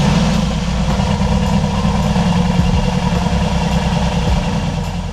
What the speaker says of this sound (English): the most amazing burbling exhaust note that AMG has ever put out